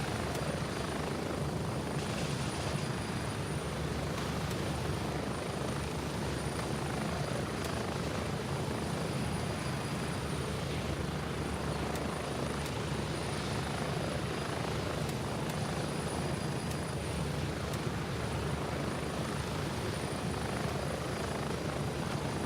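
Helicopter flight in the video game Gray Zone Warfare, a steady loud rotor thump and turbine whine heard from inside the cabin, unbroken for over twenty seconds with no talk.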